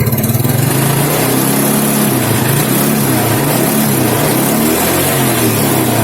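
A vehicle engine with a faulty charging system and weak battery is revved up close while its charging voltage is checked, giving a loud sustained roar whose pitch swells and eases without a break.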